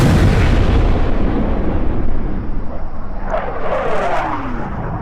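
Fighter aircraft in the horror video game Pikabuu: Smile roar continuously with a loud, dense rumble, and a jet sweeps past toward the end amid heavy thundering noise, with no talking.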